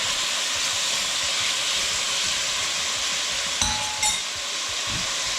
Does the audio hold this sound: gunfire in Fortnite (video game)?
no